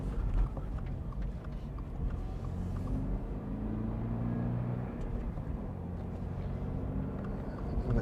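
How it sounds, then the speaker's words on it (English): A stock 2022 Subaru BRZ Premium sports car engine rumbles steadily from inside the cabin, a low throaty drone that rises slightly in pitch as the revs climb. "the engine sounds so good from the cabin, especially for a stock car"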